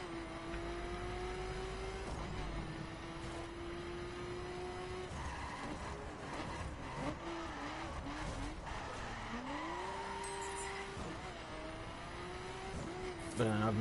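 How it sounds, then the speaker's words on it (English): Powerful car racing around a track in the video game The Crew, with steady engine drone, shifting revs and repeated tire skids throughout, loud and continuous with faint talk underneath. "my car has definitely way too much power for this track at the moment."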